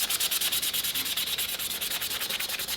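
A Scotch-Brite pad rubs lightly over a painted Boba Fett helmet, a rapid, even back-and-forth scuffing hiss repeating several times a second, close and continuous with no speech.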